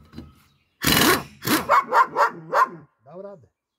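A dog barks in a quick run of five or six loud, close woofs, followed by a shorter whining yelp, during a test of a Metabo DSSW 360 impact wrench.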